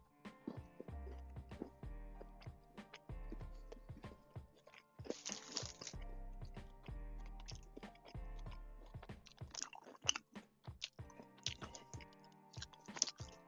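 Crisp crunching bites and chewing of Mr Beast Feastables milk chocolate with puffed rice, close to the mic, a run of irregular sharp crackles with short pauses, no talking.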